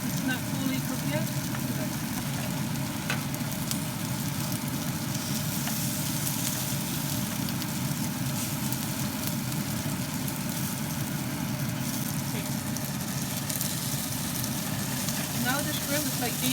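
Shrimp and asparagus stir-fry in a hot pan, a steady dense sizzle and crackle sustained without pause, close and fairly quiet.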